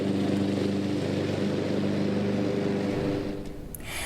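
A grounds crew mowing the ballpark field at Great American before the season: a steady, loud engine drone with a low throbbing rumble that eases off toward the end, with no voices.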